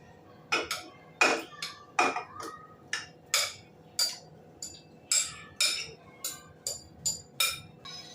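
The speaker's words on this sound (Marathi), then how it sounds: "आता हे मटण आपण कुकरमध्ये घालून घेऊया" Marinated mutton goes into a pressure cooker, heard as a series of sharp metallic clinks and taps from a spoon against the cooker, about a dozen evenly spaced hits, close by with quiet background.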